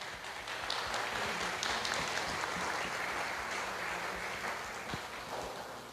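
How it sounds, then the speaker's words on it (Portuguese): A faint, steady round of applause from a church congregation, a continuous wash of clapping that holds at an even level before slowly easing off. "Uma salva de palmas a ele mais uma vez."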